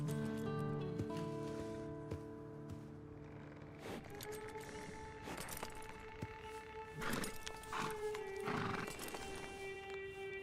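In Red Dead Online, a horse gives a whinny with a falling tonal cry, followed by hoofbeats clip-clopping and rustling. The sound is close and fairly quiet, with no speech over it.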